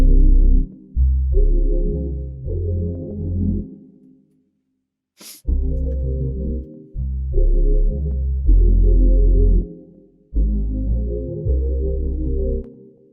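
R&B beat chorus made in FL Studio with Analog Lab bass playing a few slide notes, a steady looping groove of punchy low bass and mid chords, briefly dropping out once before the pattern resumes.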